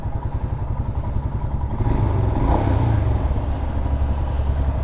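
A Royal Enfield Himalayan motorcycle being ridden, its engine thrumming in a steady low pulse with rising load midway and road and wind noise mixed in, close and continuous.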